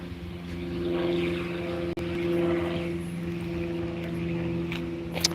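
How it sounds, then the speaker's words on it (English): An aircraft passes overhead as a steady, droning engine hum with a tonal buzz, moderately distant and sustained throughout, over faint outdoor background. "There's a aircraft overhead passing by."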